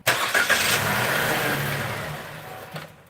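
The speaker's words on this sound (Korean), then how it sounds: "자, 시동을 한 번 걸어볼게요" A Chevrolet Spark car engine, started for the first time after an engine oil change, catches and settles into a loud, steady running hum, gradually easing down in level toward the end.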